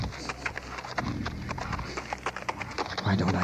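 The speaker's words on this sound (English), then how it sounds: "a horse coming along the road behind" Hooves of a big black horse with a cloaked rider clip-clop along a road, a steady, fairly close rhythm of hoofbeats with faint background noise.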